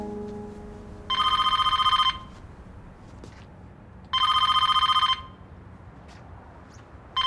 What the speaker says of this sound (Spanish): Es su teléfono, Eva, su casa.